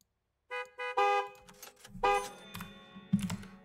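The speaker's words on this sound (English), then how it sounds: "Bro, stop honking!" Car horn in a gas station video game, honking in about six short, repeated blasts of uneven length, loud and close, over faint game sounds.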